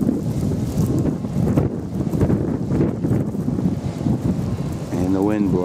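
Blizzard wind blows steadily around an old snow-filled barn on a farm in Edgecomb, Maine, a loud, continuous rushing roar buffeting the microphone, with a brief whistling tone near the end.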